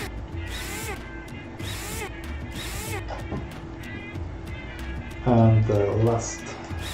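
Screws being undone on a Mars rover's protective cover in Rover Mechanic Simulator, heard as a string of short mechanical ratcheting whirs and a louder tonal buzz near the end, over background game sounds while someone talks.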